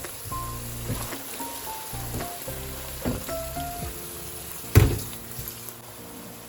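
Restaurant-style mixed fried rice sizzling in a hot pan as a peppery sauce is poured in, crackling and hissing with intermittent stirring clatter and one sharp louder spatter.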